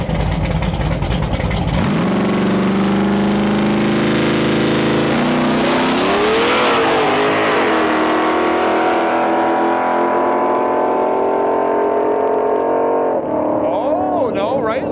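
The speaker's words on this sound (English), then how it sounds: "Chad's Mustang is no joke. It's supercharged, 5-liter, very, very fast car that gets down quite well." A supercharged 5-liter Mustang launches at a drag strip, its engine roaring loud and close with a rising, sweeping pitch and supercharger whine as an announcer talks over it.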